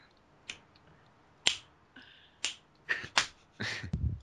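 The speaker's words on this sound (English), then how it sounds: "I'm just powerfully snapping." Sharp, forceful finger snaps, about eight in all, close to the mic: spaced about a second apart at first, then quicker and clustered toward the end, with near silence between them.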